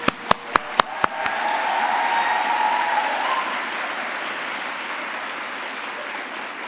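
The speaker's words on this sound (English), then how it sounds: "Let's recognize them with a round of applause." An audience at an awards banquet breaks into applause after a few sharp, separate claps at the start, swelling into steady clapping that gradually tapers off.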